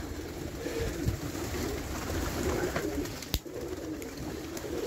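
Pigeons in a loft coo softly and steadily amid a dense background hum, faint murmuring calls overlapping throughout, with one sharp click partway through.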